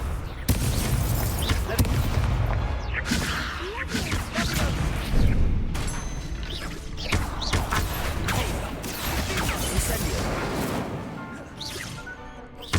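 A Confringo fire spell blasts during a duel in Hogwarts Legacy. Dense booms, crashes and impact thuds repeat over a busy combat backdrop, with voices speaking between the hits.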